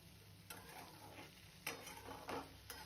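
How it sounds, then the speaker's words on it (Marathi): Diced potatoes with salt are stirred in a hot pan while making sabudana khichdi, a steady sizzle with a few sharper scraping strokes of the spoon against the pan. "आता हे मीठ सगळीकडे मिक्स करून घेऊया."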